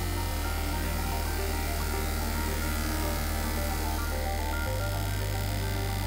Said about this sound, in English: valve to send pressure out to the nozzle.